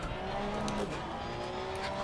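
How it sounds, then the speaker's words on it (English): A Porsche 911 GT3 R race car in Assetto Corsa Competizione runs at a steady engine drone, with a tire squeal from wheel spin under acceleration, heard close and even throughout. "there's a bit of wheel spin in the car"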